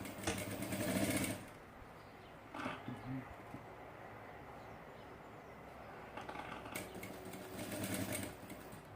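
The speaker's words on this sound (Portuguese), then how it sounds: "vamos costurar a volta toda novamente" A sewing machine stitches around the edge of a double glasses case in quiet, short runs: one burst at the start, a brief one in the middle and a longer run near the end.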